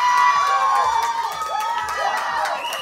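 Crowd cheering and shouting after a point at a beach tennis tournament on a hot Sunday, short bursts of excited voices and whoops, close and lively.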